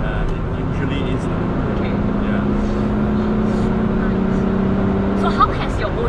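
A Volkswagen Corrado engine with an open port idles loudly and steadily with a deep, droning hum and a raspy edge, close by, with faint voices underneath.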